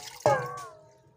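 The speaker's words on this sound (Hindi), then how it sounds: "ऐसे प्याले के अंदर पानी डालेंगे आधा लीटर" Half a litre of water poured from a bowl into a clay cooking pot, one short close splash with a ringing hollow tone that fades within a second.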